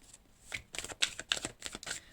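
Oracle cards are drawn and shuffled from a deck, giving a quiet, close run of soft papery flicks and slides over a couple of seconds, with no talking.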